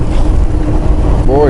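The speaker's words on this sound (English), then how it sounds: "Boy, it's windy." Strong wind buffeting a microphone outdoors beside a car on a road trip through North Carolina and Virginia, a loud, continuous low rumble that briefly breaks into a rising tonal whine near the end.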